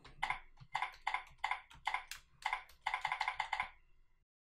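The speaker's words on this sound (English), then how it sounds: "I'm going to start to type my name." Typing a name on a computer keyboard: close, crisp key taps in quick bursts, about a dozen strokes with short pauses between groups, ending in silence.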